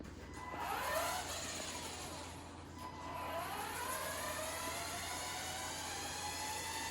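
A Funtek STX or MTX radio-controlled model car runs its motor at minimum speed, giving a steady mid-pitched whir that swells briefly and then holds an even hum throughout, with no voices.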